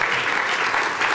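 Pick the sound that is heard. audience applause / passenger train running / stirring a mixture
audience applause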